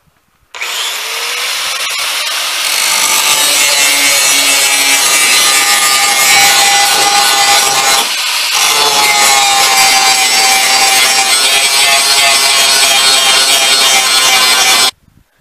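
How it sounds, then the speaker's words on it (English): An old lawn mower blade being sharpened with a power tool, a loud continuous grinding and scraping rasp that runs steadily for about fourteen seconds with a brief dip near the middle, with no talking. "Now that we've got some of our sharpening done on our blade here"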